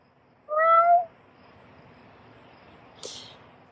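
A single cat lets out one clear, drawn-out meow close by, then falls silent over a quiet background of faint insect chirping, with a brief sharp click shortly after.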